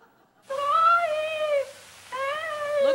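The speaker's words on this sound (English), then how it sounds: "the kitty cat." A cat meows twice in a row, each call long and clear, sliding in pitch, close and loud, with a short pause between them.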